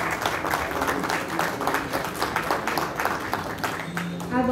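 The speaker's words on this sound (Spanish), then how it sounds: "A Chabelita, un aplauso por favor." Applause from an audience at a community conversation in Actopan, Hidalgo, a dense, steady round of clapping held at even loudness throughout, with some voices mixed in.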